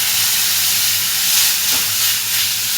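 Tomatoes dropped into spice paste frying in a pan with garam masala for a besan roll gravy give a steady, loud, close sizzle with a hissing, steamy texture throughout, and no one speaks.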